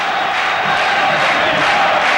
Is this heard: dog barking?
no